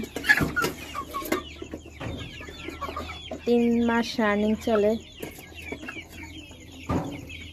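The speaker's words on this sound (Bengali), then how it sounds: "4টা ব্রাহ্মা, কোনটা মোরগ কোনটা মুরগি এখনো বোঝা যায় না।" Young Brahma chickens around three months old clucking close by, a few short bursts of tonal clucks and calls in the middle, with someone talking before and after them.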